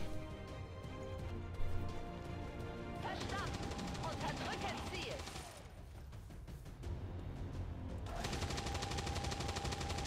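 Suppressing gunfire rattles in XCOM 2, sustained machine-gun bursts with crashing impacts layered over game music and effects, steady and fairly loud.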